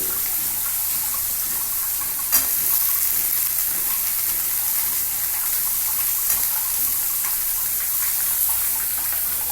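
Ginger and garlic frying in a pan, a steady hissing sizzle that continues evenly throughout, with a single sharp tick near the start and no voices.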